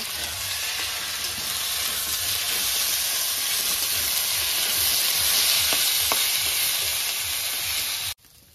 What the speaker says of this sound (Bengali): চাল ডাল ভাজা হয়ে গেছে।